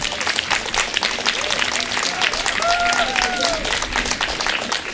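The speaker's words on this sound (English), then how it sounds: "So if we just get one more round of applause for everyone that's been organising this" A conference audience at a microservices talk applauds the organisers, a sustained bed of clapping with a few faint voices and a whistle-like tone rising briefly above it.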